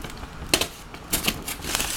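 Adhesive tape on a RepRap-style cube 3D printer being pulled and torn off in a few short, crackling rips, close by over a faint steady background.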